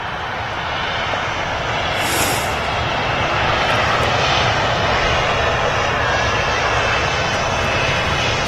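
A Ryanair jet airliner at Manchester Airport, bound for Bordeaux, produces a loud, continuous engine roar that stays steady and close for the whole stretch.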